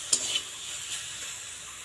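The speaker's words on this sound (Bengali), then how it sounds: "এইভাবে কিন্তু আরও 7-8 মিনিট ভালো করে লাল লাল করে ভাজিয়ে নিন" Kharkol leaves being fried and stirred in a pan until reddish, a quiet soft sizzle with a couple of brief scraping stir strokes near the start, no voices.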